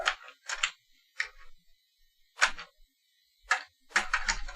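Keys on a failing computer keyboard are pressed in short, sharp clicking bursts, about six separate clusters with pauses between them, heard close in a quiet room without talk.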